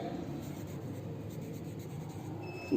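Chalk or marker writing on a classroom board, a steady scratchy rubbing that runs continuously and fairly close, with no talking over it.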